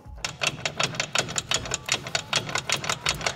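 A broken driveshaft universal joint (cruceta) being rocked by hand, giving a fast, steady series of sharp metallic clacks, close up and fairly loud, with no one talking.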